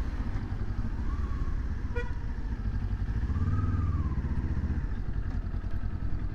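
A 2022 Kawasaki Z400 motorcycle runs with a steady, close engine rumble under dense traffic noise, while a short car horn toot and a brief rising whine cut through partway along.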